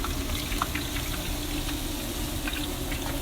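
Potatoes frying for chips in a single layer on a Matador griddle, a steady loud sizzle with crackling hiss throughout and no talk.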